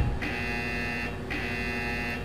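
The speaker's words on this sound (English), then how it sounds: "Acknowledge the alarm." An alarm buzzer in a marine firetube boiler simulator sounds in two long steady electronic tones, separated by a short gap, loud and alone over a low background hum.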